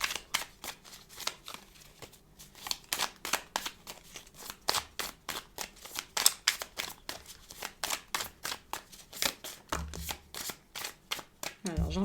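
A deck of tarot cards is shuffled repeatedly during a daily card reading, a fast, steady run of crisp riffling flicks close to the microphone, with someone speaking quietly at times.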